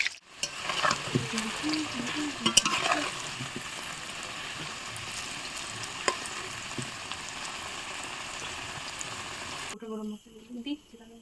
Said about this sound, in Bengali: আর এদিকে তেলটা গরম হয়ে গিয়েছে আর আমি এবার আলুগুলো ভেজে নেব।